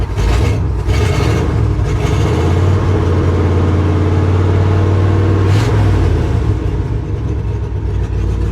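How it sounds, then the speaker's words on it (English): The engine of an old abandoned International truck runs loud and close, holding a rough, steady drone throughout with a rising rev in the middle. "Give her a little rev."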